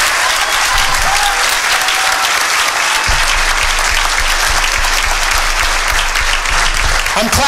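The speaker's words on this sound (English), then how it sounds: "let's give them a round of applause" A large convention crowd applauds the cast and producers of a TV drama panel, with sustained clapping and a few cheers throughout and some talk faintly underneath near the end.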